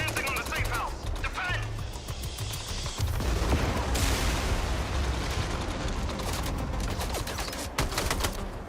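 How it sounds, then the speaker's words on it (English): An LMG machine gun in MindsEye fires in dense, rapid sustained bursts, a loud continuous rattle of automatic fire mixed with other chaotic battle noise throughout. "The LMG is actually, I think it sounds pretty good."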